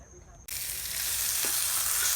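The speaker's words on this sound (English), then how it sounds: "now we're frying up some thick bacon" Thick bacon frying in a pan: after a short quiet moment, a loud, steady sizzle starts abruptly and continues close and unbroken, with no talking.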